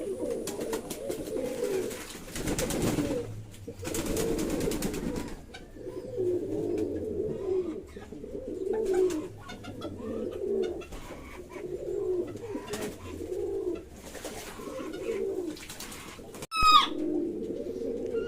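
Pet pigeons coo in repeated soft, throaty phrases at a steady rhythm during their morning bath, close by, with a few brief rustles and one sharp clack near the end.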